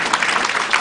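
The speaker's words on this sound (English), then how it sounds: "So let's give ourselves a round of applause for that" Audience applause breaks out after a magician talking about the psychology of magic invites the crowd to clap, a dense, steady wash of many hands lasting under a second with no voices on top.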